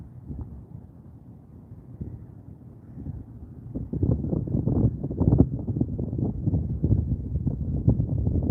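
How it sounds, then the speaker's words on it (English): Wind blowing outdoors, a low, rough rumble buffeting the microphone, light at first and then stronger and gustier from about the midpoint on, with no talking. "The wind hadn't been that bad, really."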